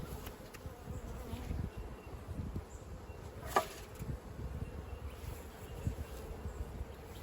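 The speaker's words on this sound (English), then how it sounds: "we've got a group of bees up here" Honeybees hum faintly around an open hive in an Australian apiary, a soft continuous buzz with an occasional louder bee passing close by the microphone.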